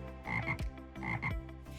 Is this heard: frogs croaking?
yes